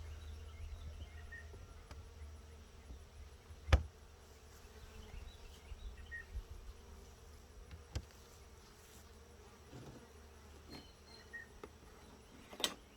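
Honeybees buzzing around an open hive during an inspection, a continuous soft drone of many insects close by, with a few sharp knocks and clicks scattered through it and no voices.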